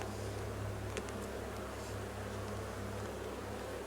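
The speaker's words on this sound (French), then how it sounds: "Les abeilles sont en train d'émerger là" Honeybees in an opened hive during a spring inspection, with new bees emerging from brood cells, producing a soft continuous low hum that stays steady and faint throughout, with no voices.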